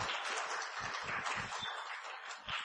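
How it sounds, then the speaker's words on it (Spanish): A church congregation gives a steady round of applause during a sermon gathering, a dense, even patter of many hands clapping that holds for a few seconds. "Vamos a darle un fuerte aplauso"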